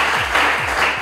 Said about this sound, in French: Voilà, on va applaudir pour ça.